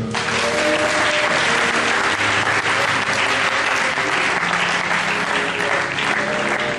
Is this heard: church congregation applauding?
yes